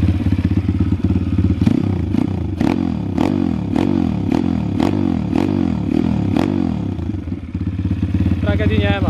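A Pitgang 140XD pit bike, freshly filled with new oil, fires up after kick-starting and settles into a steady, loud idle with rhythmic thumping pulses, a voice speaking briefly near the end.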